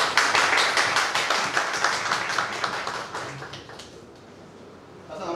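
Audience at a Gujranwala Chamber of Commerce seminar on blockchain technology claps for the speakers, a dense, steady patter of many hands that thins out toward the end.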